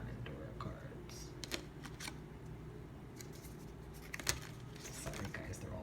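Oracle cards are handled and shuffled close by, giving soft papery rustles and a few sharper flicks and taps over a steady low hum, with a quiet voice speaking in the background.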